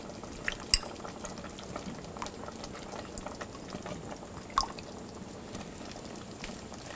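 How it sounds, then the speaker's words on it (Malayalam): A utensil stirs potatoes and carrots into a mutton stew with quiet scrapes and light clinks over a soft bubbling simmer, with no talking. "ക്യാരറ്റും ഇട്ട് നന്നായിട്ട് മിക്സ് ചെയ്യുക."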